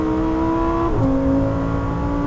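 A Lamborghini Huracán Tecnica engine droning steadily at high revs on a track, its pitch dropping sharply at a fast gear change before holding a lower, strong exhaust note.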